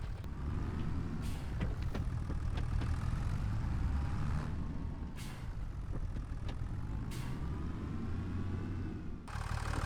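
A tractor in the Farming Simulator 2025 video game idles steadily with a low, even engine rumble, while short hisses and clanks break in as a fertilizer spreader is hooked up behind it.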